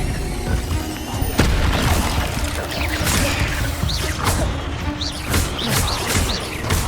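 Incendio fire spell cast in Hogwarts Legacy, a dense whooshing burst with a sharp thump near the start, then crackling, sizzling flames and repeated swishing casts over busy in-game sound.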